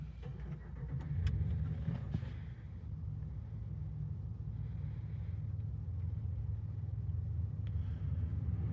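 2023 Ram 1500 Rebel pickup engine firing up with push-button ignition, a short starter burst followed by a steady low idle rumble, no talking.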